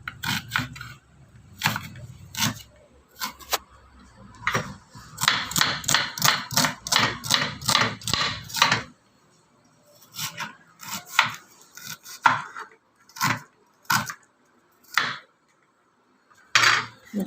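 An onion is cut on a board for pani puri masala, heard as a fast run of crisp knife chops followed by slower, scattered cuts after a pause, close and fairly loud, no voices.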